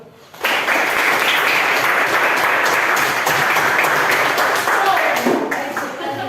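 An audience in a classroom setting breaks into sustained, dense applause that starts abruptly, stays loud for several seconds and tapers slightly at the end.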